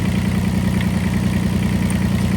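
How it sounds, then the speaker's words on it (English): An IRE20 mini excavator engine running indoors alongside an exhaust fan, giving a loud, continuous low drone with an even idling throb and steady broadband hum throughout. "Sorry it's loud, I got this running and I got the exhaust fan going in here"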